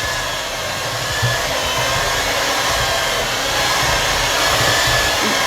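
An electric stand mixer kneads soft mahamri dough with milk, giving a loud, steady motor whir that runs continuously at an even level, with no talk.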